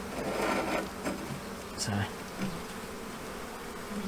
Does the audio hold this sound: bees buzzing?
yes